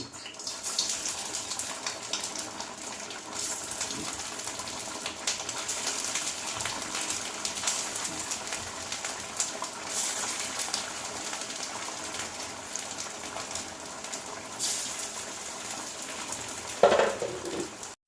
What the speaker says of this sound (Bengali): দেখো তেল গরম হয়ে গেছে এবার বাকিগুলো আমি দিয়ে দিচ্ছি ছেড়ে